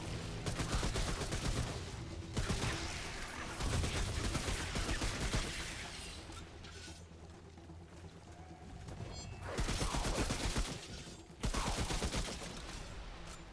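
Heavy gunfire in the video game Remnant From the Ashes, dense rapid bursts of shots in long sustained volleys with short lulls between them, loud and close, with no voices.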